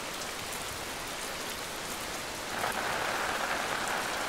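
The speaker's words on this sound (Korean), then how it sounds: "규조류의 바다에 비가 내립니다." Steady rain falls on a tidal mudflat, a dense even hiss throughout that grows a little heavier and closer partway through, with no voices.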